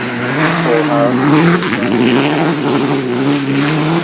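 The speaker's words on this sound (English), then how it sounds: "So this is the Opel Ascona, the 72 Ascona," A 1972 Opel Ascona rally car at the Goodwood Festival of Speed revs loudly close by, its engine note rising and falling over about four seconds.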